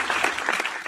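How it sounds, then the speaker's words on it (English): An audience gives a short burst of applause, a dense patter of many hands at moderate volume, heard by itself for under a second. "a little round of applause for that"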